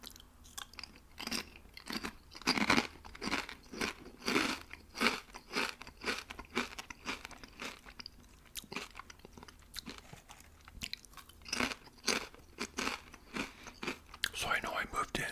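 Close crunching and chewing of potato chips, steady rhythmic bites repeating throughout, with soft speech-like mouth sounds mixed in.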